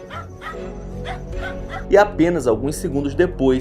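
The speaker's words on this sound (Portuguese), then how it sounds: "é possível ouvir os cães latindo desesperadamente" Dogs barking frantically at something hidden in the shadows, rapid yips and whimpering barks that build up close, while a narrator talks over them.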